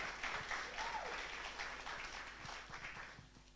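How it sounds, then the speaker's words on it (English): An audience gives a round of applause at a community celebration and pitch night in Lewisham, London, heard as a faint, steady wash of clapping from a distance that holds evenly for several seconds. "If we can have a huge round of applause."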